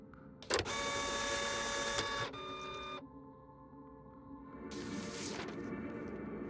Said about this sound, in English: Printer always sounds like an angry animal devouring something.